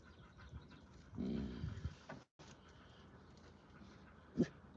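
A dog in or near a car gives a few soft, distant barks and pants, with a louder yelp near the end, against a quiet background.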